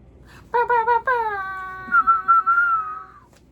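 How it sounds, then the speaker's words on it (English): A person whistles a short, clear tune nearby: a few quick notes, then long gliding pitches that fade out. "I shouldn't whistle."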